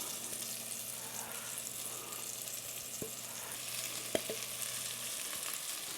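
Floured beef pieces for a Dutch beef and onion stew are browning in a hot pan. A faint, even sizzle runs throughout, with a couple of soft clicks and a small tap late on, and no one speaking.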